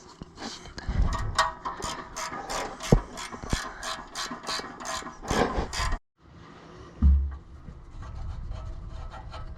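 A ratchet clicks in quick bursts while undoing exhaust manifold bolts on a Honda Civic, close and fairly loud, then stops and is followed by metallic clunks and quieter handling noise.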